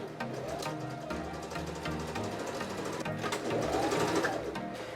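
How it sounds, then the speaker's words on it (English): A sewing machine runs a straight stitch along a seam on fabric for a folding mattress chair, a close, continuous whirring and rapid needle clatter that surges briefly near the end. "I'm going to straight stitch along that line that I just gave myself the visual for."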